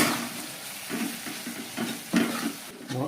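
Spice paste frying with tomato in a pan for a Bengali pomfret and potato curry, a soft sizzle with irregular stirring scrapes and clatter coming in short bursts, fairly close.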